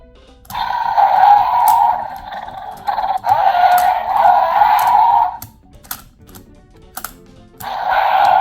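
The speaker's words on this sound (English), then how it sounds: "spin the wheel." The spinning wheel on a Jurassic World Epic Evolution Megalosaurus toy figure gives three loud bursts of close, rattling clicks, with brief pauses and separate sharp clicks between them.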